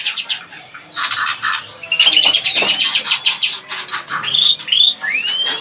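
A green songbird among captive magpie-robins chirps noisily, with rapid bright squawks, short tweets and rising whistled notes tumbling together close by; the calls come in quick bursts with brief pauses.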